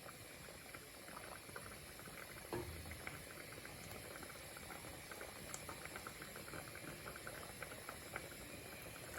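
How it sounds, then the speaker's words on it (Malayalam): Karimeen fish simmering in coconut milk in a pot gives off a quiet, steady bubbling and faint popping, soft and close with no voices. "ഇപ്പതേ നമ്മുടെ ആ മീനൊക്കെ തേങ്ങാപ്പാലിൽ കിടന്നൊന്ന് തിളയ്ക്കാൻ തുടങ്ങിയിട്ടുണ്ട്"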